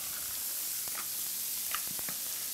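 Onions, celery and carrots hitting a smoking-hot pan produce a bright, steady sizzle and hiss, with small crackles and pops scattered through it, close and continuous.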